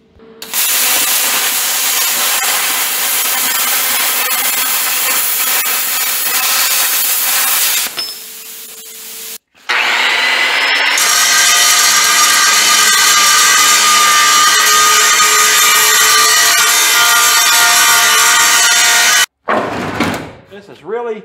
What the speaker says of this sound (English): let's cut this off and then grind it